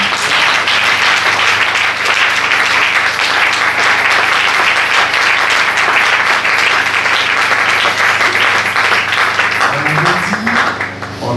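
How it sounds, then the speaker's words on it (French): A large church congregation at a Sunday service applauds steadily and loudly, with dense sustained clapping throughout and a few voices rising near the end. "Est-ce qu'on peut donner de l'acclamation au Seigneur?"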